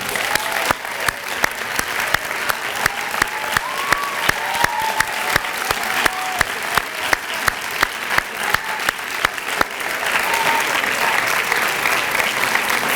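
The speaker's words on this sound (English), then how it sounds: "please rise and just receive a round of applause" A graduation audience applauds alumni at University Park Campus School, a steady crowd ovation sustained for the whole stretch with some louder claps popping through and faint voices mixed in.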